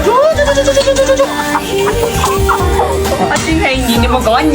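Chickens being fed grass at a rural village home, giving loud, repeated clucks and throaty calls close by over a busy, continuous background.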